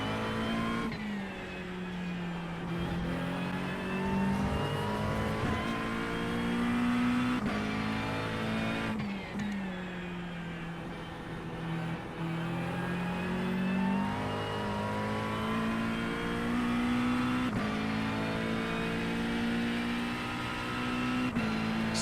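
GT3 race car at Brands Hatch in a racing video game, engine droning steadily and loud throughout with rising and falling revs as it accelerates and shifts, no talk.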